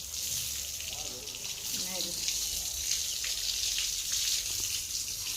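Water splashes and pours in a steady stream over a person's body, with a brief voice murmuring early on.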